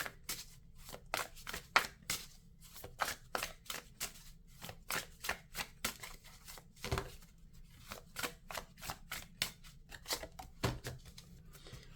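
Tarot cards are shuffled close by, making a quiet, rhythmic run of crisp flicks and snaps that repeat steadily, with no one speaking.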